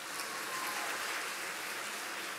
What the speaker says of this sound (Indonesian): Tepuk tangan untuk Romo Dipta.